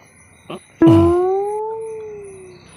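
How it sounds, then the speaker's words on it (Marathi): At night, a single dog lets out a long, drawn-out howl that rises slightly and slowly fades, preceded by a brief faint yelp, with no voices. "कुत्रे कायले भुकतात चाले"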